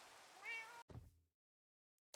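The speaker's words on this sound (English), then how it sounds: "Tame tabby and British cats." Tamed tabby and British shorthair cats in Minecraft give a clear, close meow that stops abruptly, then a short softer purring trill, silence, and the start of another sound at the end.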